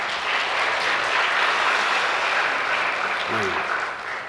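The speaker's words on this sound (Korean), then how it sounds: "우리 이분들에게 다시 한번 우리 박수해 주시겠습니다" Audience applause after a call to honor two vaccine-developing organizations awarded a peace prize at a Korean peace summit; steady dense clapping fills the room throughout, with a brief voice near the end.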